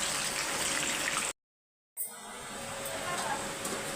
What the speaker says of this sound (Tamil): சம மழை நல்ல இடி